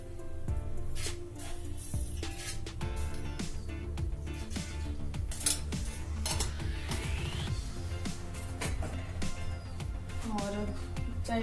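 A metal spoon clinks and scrapes inside a steel glass while sugar is stirred into hot coffee, giving repeated light clinks over a steady background.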